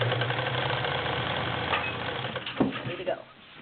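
A vintage Singer Spartan 192K straight-stitch sewing machine with a size 16 needle runs steadily, its motor humming and needle clattering evenly, with brief bumps of handling near the end as it works through four thick layers of denim.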